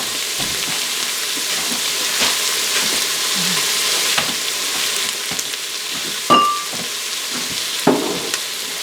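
Meat and tomato paste sizzle loudly and steadily in an Instant Pot, a constant close frying hiss with occasional clicks and stirring knocks.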